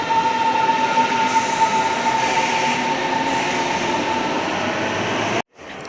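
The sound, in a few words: Berlin metro train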